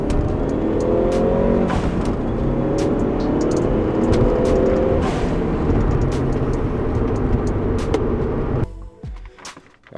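A Ford Focus ST with a catless downpipe revs loudly close by. Its exhaust holds a dense, raspy roar for most of the stretch, then cuts out abruptly near the end.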